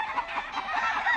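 Round-head hatch cross rooster, a round-head cock bred over a hatch hen, clucks in a run of short, close, repeated calls on a Louisiana farm.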